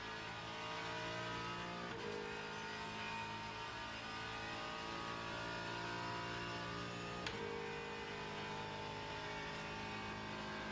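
An Isotta Fraschini race car engine in Le Mans Ultimate drones steadily at high revs, with brief gear-change dips in pitch and a continuous smooth tone, quiet and heard alone.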